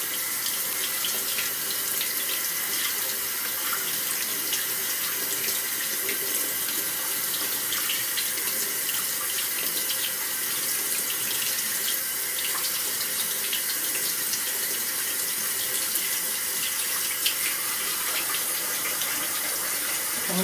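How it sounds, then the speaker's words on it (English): Beans rinsed under a running kitchen tap while salad is made, giving a loud, steady, unbroken rush of water splashing in the sink throughout. "just rinse them off. Give them a good old rinse"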